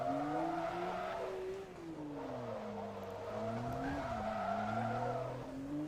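Tires of an Acura RL skid and squeal through corners in the Forza Motorsport 2 racing game, a continuous wavering screech over the steady engine drone, loud and sustained without pause.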